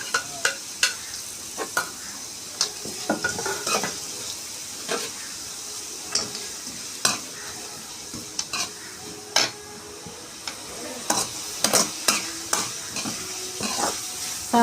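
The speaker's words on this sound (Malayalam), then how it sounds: "സവാള നല്ലതുപോലെ വഴണ്ട് വരുന്നത് വരെ ഇളക്കണം." Long-sliced onions stirred and fried in a pan for Kerala beef varattiyathu: a steady frying hiss broken by repeated, irregular scrapes and knocks of a spoon against the pan, with no talking.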